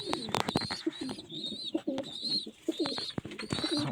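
Domestic pigeons coo in a loft, with repeated soft throaty coos and a few wing flaps and rustles close by, no voices.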